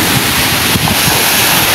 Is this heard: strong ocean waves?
yes